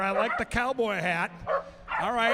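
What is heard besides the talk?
corgis barking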